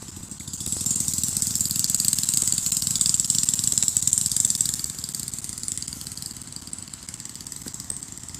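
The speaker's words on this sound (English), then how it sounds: "the guy put a lawnmower engine in it, and he just went by" A tricycle pulling a cart, powered by a lawnmower engine, putters past outdoors in a park-like area, its rattly buzz swelling then fading as it moves off.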